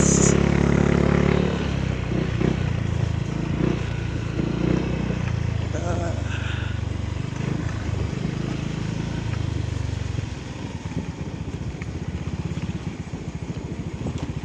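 A Yamaha Mio scooter engine runs steadily with a broad droning rumble throughout, accompanied by road and wind noise as it is ridden.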